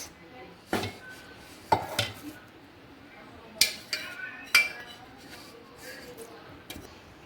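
Fried onions are stirred into marinated chicken in a metal pot for gongura chicken pulao, with a handful of sharp spoon-on-pot clanks and scrapes spaced irregularly over a quiet kitchen background.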